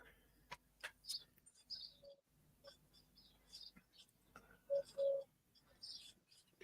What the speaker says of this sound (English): Oh, I can hear a bird.